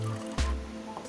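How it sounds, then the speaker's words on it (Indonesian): Water added to a stirred drink mixture, a short close pour with a soft squishy liquid splash and a drip afterward. "Setelah kita aduk, kita tambahkan sedikit air."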